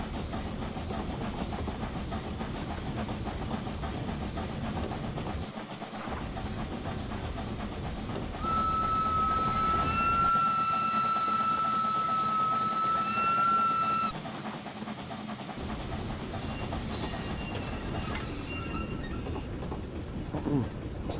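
In Train Simulator Classic, a Henschel & Sohn Fabia 0-4-0T steam tank locomotive keeps up a continuous hiss and rumble. A sustained whistle-like tone sounds for several seconds midway, and faint rhythmic clanks come and go.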